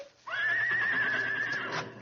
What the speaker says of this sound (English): I came to find my horse, Blackie.